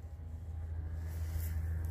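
A car rumbles close by outside on a road, a low steady engine drone that swells slightly as it passes, with no talk over it.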